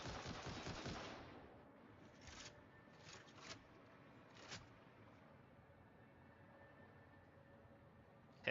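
Gunfire in the video game Satisfactory: a rapid burst of shots at the start, then a few separate single shots over a quiet background hum.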